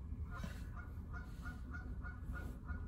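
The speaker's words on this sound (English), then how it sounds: "Geese got, like, the worst fucking sound of all time" Geese honk repeatedly in a quick series of nasal calls, fairly faint and distant over a low background rumble.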